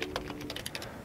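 Rapid keystrokes on a Lenovo Ideapad C340 laptop keyboard, about a dozen light clicks in quick succession, close and clear with a faint steady hum underneath.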